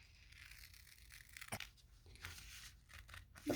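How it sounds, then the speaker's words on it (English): Crisp paper card being cut with scissors for a handmade Valentine's pop-up card, quiet close snips and crinkly tearing strokes in an irregular sequence, with one sharper cut midway. "Now let's take our scissors"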